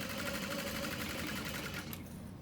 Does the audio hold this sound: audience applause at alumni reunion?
no